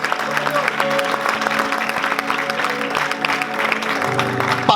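Congregation applause during a church sermon, steady sustained clapping from a crowd, with voices and a faint tonal background audible beneath it.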